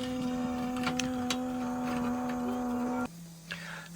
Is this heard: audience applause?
no